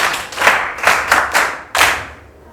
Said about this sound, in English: Clap hands for yourselves.